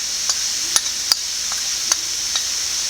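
Chilli powder and turmeric powder are sautéed with ginger in a pan for chicken puff filling: a continuous close sizzle broken by several crisp scrapes and taps of a spoon stirring against the pan, no voices.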